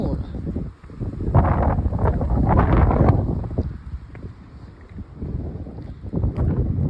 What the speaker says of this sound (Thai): ลมแรงวันนี้